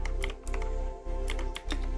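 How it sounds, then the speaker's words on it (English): Computer keyboard clacking during play of a platforming game, close and fairly loud keystrokes in uneven clusters over a steady low hum. "You've probably heard my keyboard clacking this whole time."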